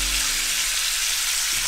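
Garlic sizzles in a hot pan alongside deer loin, a steady bright crackling hiss, with a low hum at the start that fades out.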